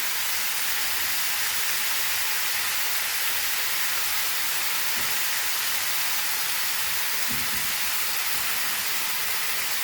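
Goan masala paste hitting a hot biryani pan with beef: a steady, loud sizzling hiss that holds throughout, with a few faint knocks of the utensil beneath it.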